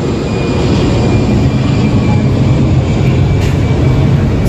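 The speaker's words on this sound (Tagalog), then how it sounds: "Malapit po kami sa airport. Ay, ayan. Panay po ang daan ng mga aeroplano." Airplanes pass overhead near an airport, a loud, sustained low rumbling roar that stays close and steady throughout.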